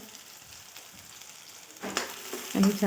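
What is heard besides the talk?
bean pods frying with spices in a pan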